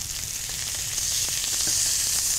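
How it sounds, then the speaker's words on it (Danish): Hamburger patties frying in a pan, the fat sizzling around them in a steady, bright crackle with occasional small pops, close and continuous without talk. "Der skal stadigvæk være lyd, og fedtstoffet skal syde omkring bøfferne"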